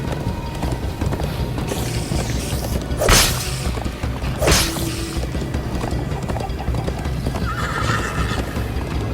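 Hooves clatter in a steady galloping rhythm while a horse whinnies sharply twice, amid busy mechanical background noise, in Minecraft: Story Mode.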